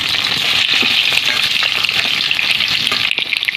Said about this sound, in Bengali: আমি কেটে রাখা পেঁপেটা দিয়ে দেবো এর মধ্যে,